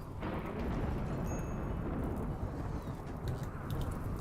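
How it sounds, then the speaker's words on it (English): Deep rolling thunder from a dry thunderstorm in the video game RimWorld, a steady low rumble filling the whole span with no speech over it. "Dry thunderstorm? No, I want a wet thunderstorm."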